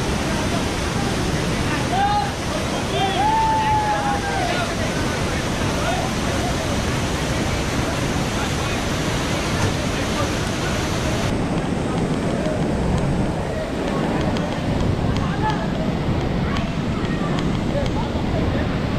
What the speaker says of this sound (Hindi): आवाज बहुत ज्यादा है यहाँ पे पानी का।